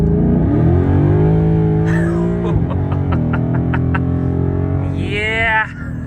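A tuned Ford Mustang accelerates hard from close range, its engine roaring and climbing in pitch through quick gear changes, loud and continuous.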